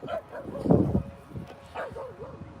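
Dogs bark and yip at a dog park, a loud burst near the middle followed by softer whimpering barks, with faint voices in the background.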